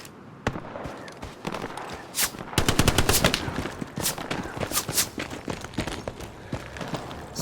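Gunfire in the World War II shooter Hell Let Loose on the El Alamein map: sharp, loud bursts of rapid shots and single cracks, dense around the middle and scattered through the rest, with distant battle noise between them.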